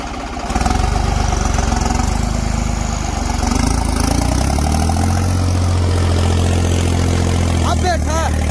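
A tractor engine runs loud and steady in gear while pulling a subsoiler through a field, with a constant low rumble that deepens slightly midway as the load shifts.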